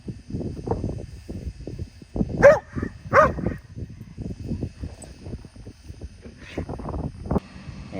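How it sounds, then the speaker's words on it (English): Dogs bark in a couple of sharp bursts amid scuffling, rustling play noise outdoors on a cold day, fairly close, with no one talking. "the dogs will play"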